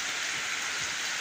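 Moderate rain falls steadily outdoors beside a mosque during a flood-control effort, a dense, even hiss of drops that holds at constant loudness throughout with no voices.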